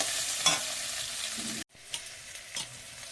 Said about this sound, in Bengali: একটু হলুদ দিলাম, একটু লবণ দিলাম, দিয়ে মশলাটা একটু কষিয়ে নেব